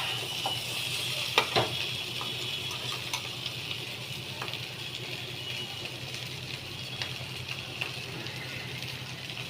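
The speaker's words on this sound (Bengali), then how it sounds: "মশলাটাকে মিশিয়ে নিচ্ছি।" Pre-fried spice paste for an elephant foot yam curry gets stirred in a pan, a low steady sizzle with occasional soft scrapes and taps of the spoon, fairly quiet throughout.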